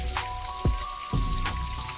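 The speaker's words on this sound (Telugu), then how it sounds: "ఇక్కడ కనిపిస్తుంది కదా, ఇదే వాటర్ ఫాల్స్" Continuous rushing hiss of falling water from Makudi Waterfalls, heard from a moderate distance, with a couple of sharper splashes.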